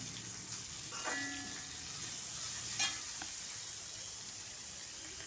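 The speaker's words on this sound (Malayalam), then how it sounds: "കറിവേപ്പില ഇവ ചേർത്ത് ഒന്ന് ഇളക്കി കൊടുക്കാം" Continuous soft sizzling of curry leaves frying in a pan for a ginger curry, with occasional faint scraping as they are stirred.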